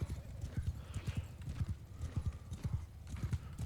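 Horses gallop in the video game Mount & Blade 2 Bannerlord, a rapid, uneven clatter of hoofbeats from cavalry riding among trees, fairly close and continuous.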